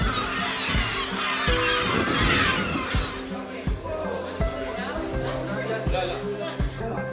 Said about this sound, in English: we got close and personal to the local yellow-legged seagulls, always looking for a free feed